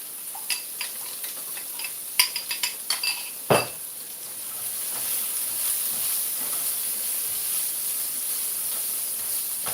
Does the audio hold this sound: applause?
no